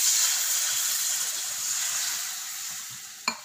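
Half a cup of vinegar hits hot masala for an anchovy fish pickle, setting off a loud, steady hiss and sizzle that slowly fades, ending with a brief sharp click.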